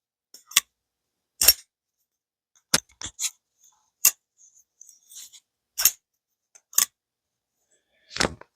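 Sencut Serene folding knife worked open and shut, giving scattered sharp metallic clicks and small pings at irregular intervals, close and crisp against near silence.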